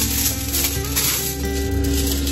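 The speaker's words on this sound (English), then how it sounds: "I'm unrolling tinfoil" Tinfoil unrolled in a minivan kitchen setup: a continuous crinkly, hissing rustle of thin aluminum foil peeling off the roll, fairly close and steady for a couple of seconds with no voices.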